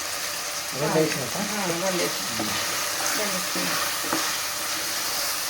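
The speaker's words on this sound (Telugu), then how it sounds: "ఇక మంచిగా నూనెలో ఫ్రై కావాలి." Mutton curry seasoned with chili powder and coriander powder frying in oil, stirred in the pan; a steady sizzle with stirring scrapes runs throughout while a person talks over it.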